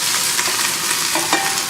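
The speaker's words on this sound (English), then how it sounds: "we're going to put in our onions. Yeah, you hear that sizzle?" Two large chopped onions sizzle and fry in a pot as the base for vegetarian lentil soup, a loud, steady crackling hiss with a brief stir partway through, heard alone without talk.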